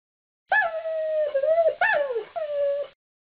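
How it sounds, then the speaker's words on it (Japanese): An African wolf howls close and clear in two drawn-out, wavering calls that rise and bend downward, with nothing else audible. "アフリカのオオカミ"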